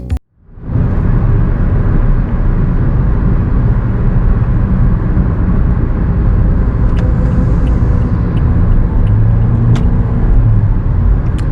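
A Toyota Yaris VX automatic car accelerates hard from standstill in a 0–100 km/h run, a loud, close, sustained engine and road roar that starts abruptly and holds steady throughout.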